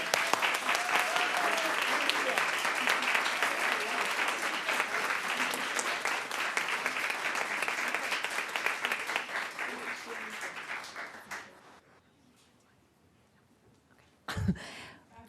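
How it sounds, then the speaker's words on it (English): A town council meeting audience gives a long round of sustained, even applause that tapers off into near silence, followed by a short burst of a nearby voice. "so I'd like to give them a round of applause, please."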